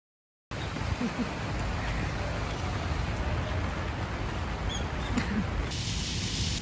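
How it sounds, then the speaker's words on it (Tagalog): Rain falling outdoors in Japan, a steady dense hiss of drops on surfaces, close and continuous for several seconds with no talk. "At saka umuulan, sumisilong."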